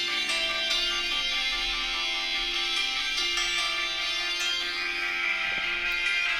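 A song plays back as a full, dense rock mix with bright guitars and drums, steady and continuous, slightly tinny and with no talking over it.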